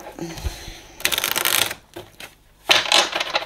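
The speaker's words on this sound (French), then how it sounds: "Tiens, je vais tirer 3 cartes d'intro aussi avec ça." Tarot cards being drawn from a deck, two bursts of crisp shuffling and sliding card noise, close and fairly loud, separated by a short quieter pause with faint handling sounds.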